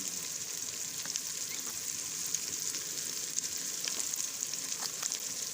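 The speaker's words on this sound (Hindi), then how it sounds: "इसको अच्छी तरह से मिक्स करके मसाले को बारीक कर लेंगे, भून लेंगे अच्छी तरह से।" Spices such as crushed red chilli, turmeric and whole cumin with salt sizzle steadily in hot oil in a pan for a Pakistani-style chicken rice dish, a continuous close frying hiss with faint stirring scrapes and no talk.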